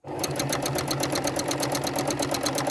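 A sewing machine stitches a quilt in a fast, even run of close mechanical clicks and hum, steady and near.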